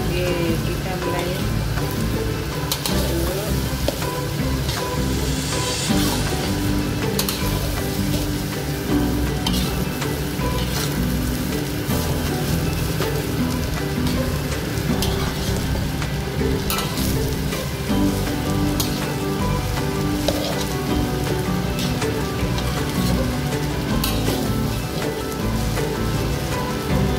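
Green chili fried rice sizzles and crackles steadily in a hot wok over reduced heat, a dense, continuous frying hiss with scraping stirs throughout, no voices over it.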